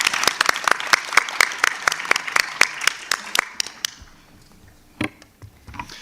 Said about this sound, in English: I think we give a round of applause to our presenters